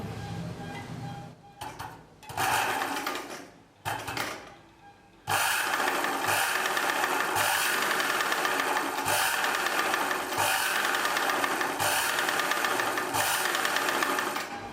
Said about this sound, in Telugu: ఇప్పుడు ఇక్కడ ప్రెస్ చేస్తే మోటార్ ఎలా రన్ అవుతుంది చూద్దాం